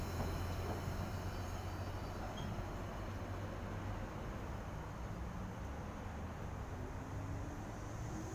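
A Sydney S66 suburban train pulls away from the Rosehill platform as a steady, distant rumble and rolling noise that stays even throughout, with no voices.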